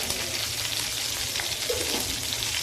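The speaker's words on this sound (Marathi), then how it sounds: "मिरच्या या थोड्या फ्राय करून झालेल्या आहेत." Green chillies fry in a pan with a steady, close, crackling sizzle that holds evenly throughout.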